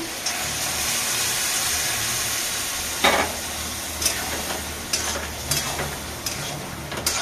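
Boiled peas go into a pan of fried spices for ghugni and are stirred, giving a soft, continuous sizzle broken by a few sharp spoon scrapes against the pan.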